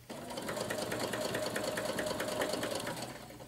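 A sewing machine stitches a dart in a skirt, running steadily and close up for the whole stretch, with a rapid even needle rhythm and no talk.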